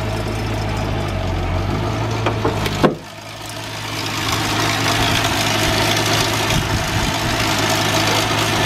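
A worn 75,000-mile car engine idles steadily with a rough, knocking rumble; a sharp click breaks in briefly before the uneven idle resumes, close and loud.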